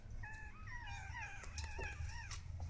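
Puppies whimper and yelp in a rising, wavering chorus of high thin cries, several overlapping calls over a low steady hum, faint and close, without talk.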